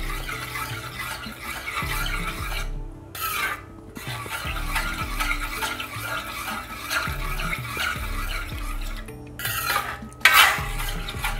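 Carrot and semiya payasam being stirred in a pan, a steady scraping and rubbing of a spoon against the metal with clinks of utensils throughout, close and continuous with no voices.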